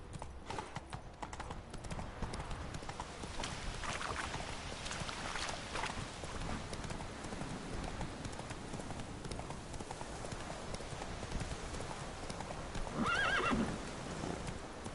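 Roach the horse in The Witcher 3 gallops with rapid, rhythmic hoofbeats, and a sharp whinny rises near the end, all fairly faint against a soft game background.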